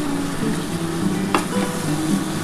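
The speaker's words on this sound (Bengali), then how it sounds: "খুব ভালো করে কিন্তু আজকে চিকেনটা কষাতে হবে।" Chicken frying and being stirred in a pan during kasha, a dense continuous sizzle close by with an occasional sharp utensil scrape.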